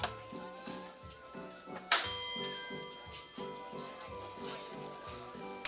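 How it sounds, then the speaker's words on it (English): A bell rings repeatedly in a 1955 New Orleans film scene. There is a bright, sharp strike, then ringing tones against a rhythmic background of music or ticking. "How many times can you ring the bell?"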